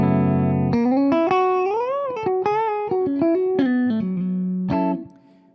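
PRS 2020 Modern Eagle V Limited Edition electric guitar with all three pickups engaged, playing a clean, sustained melodic line of bent and sliding single notes, loud and close, alone, ending on a fading held note.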